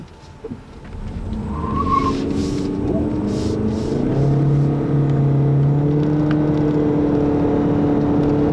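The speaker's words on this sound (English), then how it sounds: "Of course, what you're hearing is the CVT." A 2013 Ford C-MAX Hybrid revs up through its CVT transmission and holds a steady, whining drone, with a rising hum that settles into a sustained tone.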